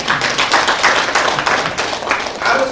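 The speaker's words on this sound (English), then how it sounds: "Because let's give him a round of applause." Audience applause at a lecture, a close, continuous patter of many hands clapping, moderately loud and steady for the whole stretch.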